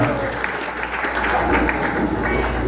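A crowd at a Kenyan gathering claps for a senator, a loud, sustained, even roar of applause from many hands that fills the whole moment with a low rumble beneath it.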